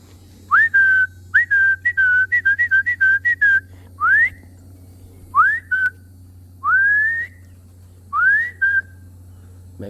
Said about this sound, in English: Let me see if I whistle, maybe they'll come down.